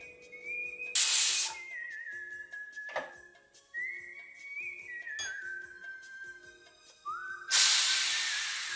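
A pressure cooker on high flame, used while making Mysore pak, hisses and whistles with shrill, wavering steam tones, building into loud bursts of hissing steam release near the start and end.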